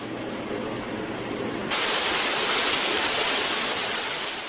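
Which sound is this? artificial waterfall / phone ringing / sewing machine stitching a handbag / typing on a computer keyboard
artificial waterfall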